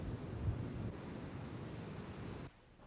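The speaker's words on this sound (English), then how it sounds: "Waves approaching a gently sloping beach break offshore and roll in." Ocean waves break offshore and roll in toward a gently sloping beach, a steady broadband wash of surf with wind rumble, fairly loud and unbroken until it drops off abruptly near the end.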